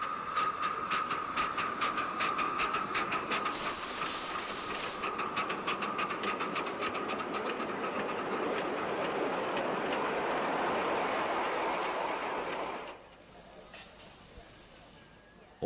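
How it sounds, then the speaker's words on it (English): A pannier tank steam locomotive hisses loudly while leaving, with rhythmic chuffs and bursts of escaping steam over the rumble of its passing freight train. "A pannier tank engine leaves with a freight train."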